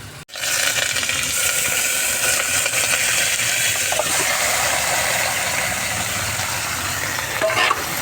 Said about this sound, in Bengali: আগে প্রথমে আলুগুলো ভেজে নেব, মাংসটা ভেজে নেব